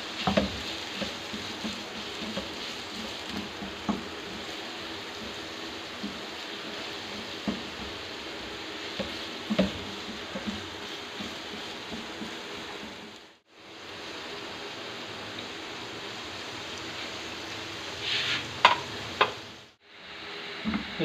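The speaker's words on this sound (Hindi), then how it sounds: "हम प्याज इसमें डाल देंगे, प्याज को हम लाइट ब्राउन करेंगे।" Chopped onions frying in a pan until light brown, with a steady close sizzle that runs throughout. The hiss drops out briefly twice, and there is occasional stirring.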